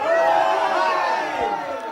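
A crowd of kitchen boys cheering together in a castle kitchen, a loud, dense wash of whooping voices sustained for about two seconds.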